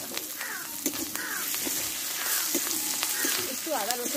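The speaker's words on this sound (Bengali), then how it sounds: "একটু আদা রসুনটা ভালোভাবে কষে নেব।" Grated ginger, crushed garlic and tomato frying with onions in a pan, a steady sizzling hiss with occasional stirring knocks, while crows caw repeatedly in the background.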